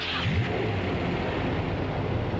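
A car engine revs up sharply near the start, then settles into a steady medium-pitched running drone, close and fairly loud with no voices over it.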